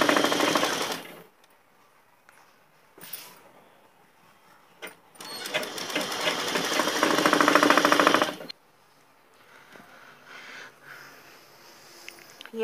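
Sewing machine stitching the front side panel of a girls' short jacket, running in two long bursts of steady rapid needle chatter with brief quiet pauses and handling noises between, fairly close.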